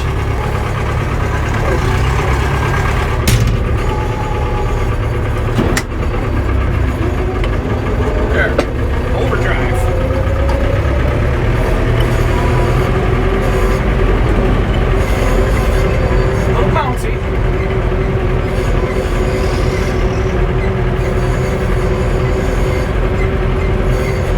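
A steady, rumbling engine of an old Massey Ferguson 1085 tractor driving on a road, with low mechanical clatter and occasional knocks, a loud continuous vehicle sound with no break.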